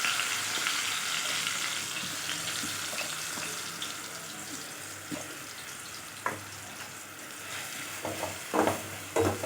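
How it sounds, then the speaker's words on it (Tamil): Chopped pineapple sautéing in ghee in a pan for pineapple kesari, a steady close sizzle with occasional stirring scrapes and clinks, no talking. "அதை இந்த எண்ணெயில் போட்டு அதையும் நல்லா அப்படியே வதக்கிக்கலாம்."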